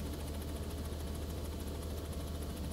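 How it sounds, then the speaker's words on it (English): Robinson R66 turbine helicopter engine in a flight simulator game, hovering: a steady, droning engine hum with a low, pulsing rotor throb and a high turbine whine, constant and fairly faint, with no speech. "see if I can slide around in the R66 turbine, which I find to be one of my favorite helicopters now"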